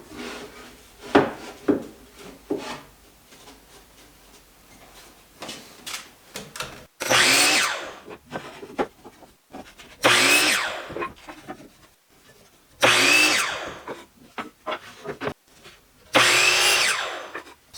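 A power saw cuts through stacked wooden planter leg pieces, with four loud bursts of whining cutting separated by quieter pauses with light clatter and handling of wood.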